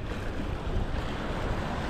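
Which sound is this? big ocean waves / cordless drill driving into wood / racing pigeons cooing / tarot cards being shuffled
big ocean waves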